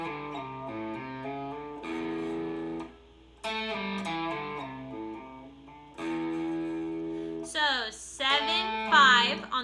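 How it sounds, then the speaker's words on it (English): Electric guitar plays the Lay Down Sally solo with the distortion backed off: clean, sustained melodic notes and slides in short phrases with brief pauses, ending in a faster run of bright notes. "So I'm going to back my distortion off a little bit so you can hear it a little bit better."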